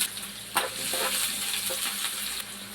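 Onions and green chillies sizzle in hot oil with mustard seeds, a steady close frying hiss with occasional sharper crackles and a few spatula stirs, no voices.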